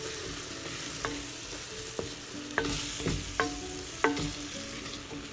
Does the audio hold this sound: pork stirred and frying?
yes